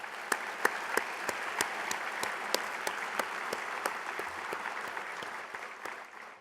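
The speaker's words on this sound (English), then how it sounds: "Please give all of our partners a round of applause." Conference audience gives a sustained round of applause for partners, a steady bright patter of many hands with a few louder individual claps standing out, tapering slightly at the end.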